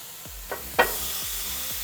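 Frozen ribeye steaks hit a hot griddle with a sharp hiss and crackle, then a steady sizzle continues underneath, close and moderately loud.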